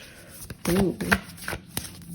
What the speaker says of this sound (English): Okay, draw some cards for you.